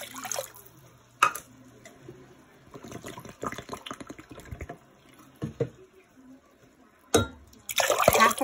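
Water splashes and pours into a cooking pot in short bursts, with quieter gaps of clinking and handling between them, close by.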